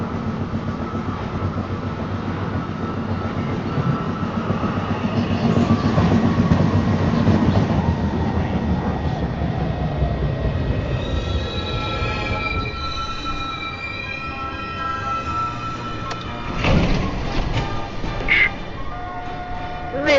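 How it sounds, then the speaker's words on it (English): A New York City subway 2 train rumbles loudly through the station, wheels squealing and rails clicking as it slows, then quieter rolling with a sharp clunk near the end; an automated announcement voice speaks over it. "is a Rector Street bound 2 train."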